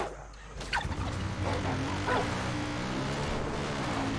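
Dog barking and yelping at a hen in the Far Cry 5 video game, several sharp barks and whimpers close up alongside clucking fowl and game background noise.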